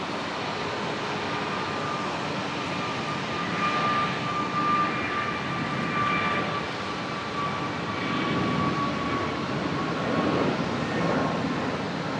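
A Jetstar Airbus A321neo jet roars steadily at Brisbane Airport as it departs on a sunset flight to Denpasar, a broad, even rumble that holds at one level from start to finish with no voices.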